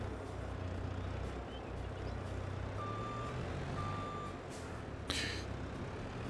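A vehicle backs up in Farming Simulator 22, giving two faint, thin reversing beeps a second apart over a steady low engine drone, followed by a brief hiss like an air brake.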